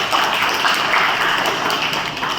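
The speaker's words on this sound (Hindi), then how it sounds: "ताली बजाओ।" Children at a school program clap together in a steady wash of applause that stays even and moderately loud throughout.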